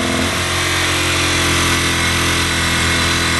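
Close and loud, a Ryobi RYi1000 1000-watt inverter generator runs steadily with a buzzing engine drone, just after being taken off choke, and its pitch settles in the first moments. No one speaks.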